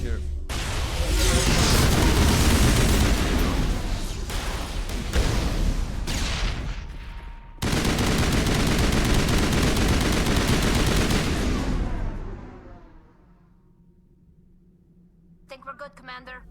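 Heavy gunfire rattles continuously in a Mass Effect firefight, broken around the middle by a loud grenade blast, then fades to a low hum with a few sharp clicks near the end; voices talk over the combat.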